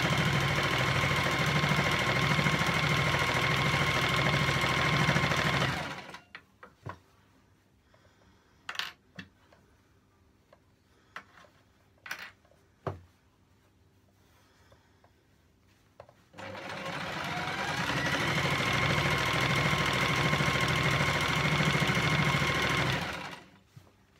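Sewing machine stitching fabric for pyjama bottoms, a fast steady whirring run, then a pause filled with small clicks and handling knocks, then a second long stitching run close by.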